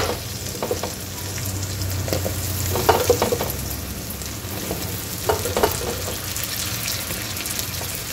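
Drumsticks (moringa pods) and potatoes sizzle and fry in a hot pan for a Marathi-style curry, a steady close crackle with a few louder stirring clatters, no talking.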